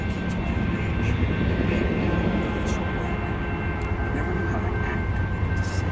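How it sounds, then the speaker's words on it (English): A westbound Union Pacific freight train led by locomotive UP 4137, a local, approaches the Missile Base Road railroad crossing near Marana with a steady, loud rumble and a sustained horn-like tone throughout. "got a train coming up."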